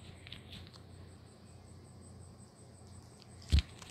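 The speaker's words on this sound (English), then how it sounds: "Oh yeah, I think I hear some crickets." Faint, steady cricket chirping from the video game Piggy hums in the background, with a brief louder burst near the end.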